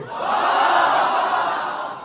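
A college audience at a business communication department event cheers and shouts together, a loud sustained roar of many voices that swells and then eases slightly over a couple of seconds.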